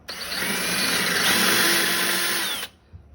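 A power drill with a 3/8 inch bit bores into the end of a wooden board, a loud steady whine lasting about two and a half seconds before stopping abruptly.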